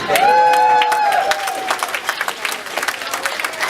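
Applause for a stand-up comedian breaks out loud and dense from a club audience, then thins into scattered individual claps and crowd murmur as it fades.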